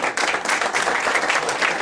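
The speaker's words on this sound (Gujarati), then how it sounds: "પાછા આપણે તાળીઓ ગરગડાથી વધાવીએ" Audience applause at a Morarji Desai birth anniversary lecture event, a dense, steady patter of many hands clapping close by that continues without pause.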